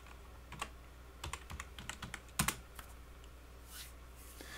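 Typing on a computer keyboard, irregular bursts of light clicking keystrokes, close and fairly quiet, with a short pause before a few last taps.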